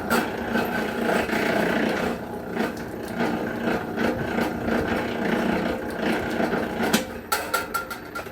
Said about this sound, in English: Let's run it through the machine, get it peeled